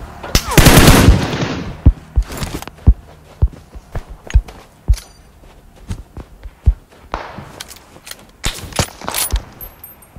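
Gunfire in the mobile battle royale game PUBG Mobile: a loud sustained automatic burst at the start, then scattered single shots and short bursts with footstep-like thumps and taps between them.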